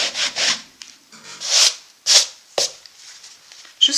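A hand rubs a dampened acrylic paint surface in short, close, scratchy strokes that come in irregular bursts with brief pauses between them.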